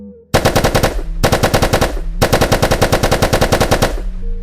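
A gun fired in a VR game with active ragdoll physics: three long bursts of rapid, evenly spaced shots with brief pauses between them, loud and close with no talking.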